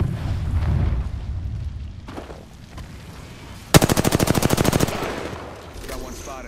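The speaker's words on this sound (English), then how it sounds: "Throwing through my grenade." Grenade and gunfire in the Apex Legends video game: a muffled low rumble, then a loud rapid burst of about a dozen evenly spaced automatic shots, fading into quieter game sounds.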